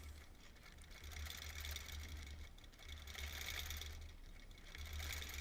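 A quilting sewing machine stitches through fabric for a Double Wedding Ring topper in bursts of fast mechanical whirring, stopping and starting in a regular pattern, fairly quiet and with no talking.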